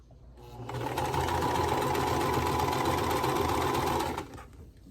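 A sewing machine stitches a quilt block in one close, steady whirring run of about four seconds that starts and stops cleanly.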